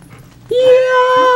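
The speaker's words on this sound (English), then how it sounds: "Save me from the doggy!" A dog in Zelda: Twilight Princess lets out a single loud, sustained whimpering yelp that holds a steady pitch after a brief quiet moment, close and clear.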